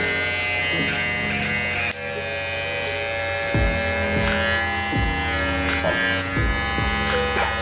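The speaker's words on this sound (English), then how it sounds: "This is the clipper itself." A small electric hair clipper buzzes steadily and close for the whole stretch, its pitch shifting slightly as it moves over hair, with no talk.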